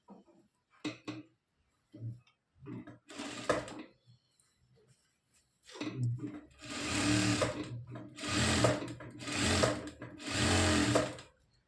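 A sewing machine stitches a blouse in several bursts of a few seconds each, growing longer and steadier toward the end, with short pauses between runs and fainter handling sounds earlier on.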